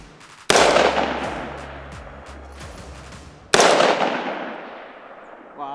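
Two loud rifle shots, a few seconds apart, crack close by and ring out with long echoing decays as rounds strike mud downrange.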